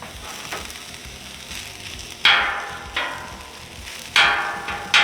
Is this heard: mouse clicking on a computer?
no